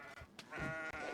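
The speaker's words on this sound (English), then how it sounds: "A bunch of starving goats locked in a tower." Goats bleat in a few short, wavering cries from Kenshi, quiet and close together, with faint background sound in between.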